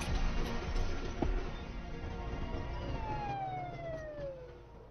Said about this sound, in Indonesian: Mendengar suara sirine polisi